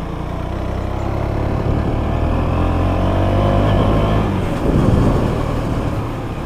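A KTM Duke motorcycle engine drones loud and close as it labors up a steep mountain climb in Jharkhand, holding a steady revving growl with a brief surge near the end.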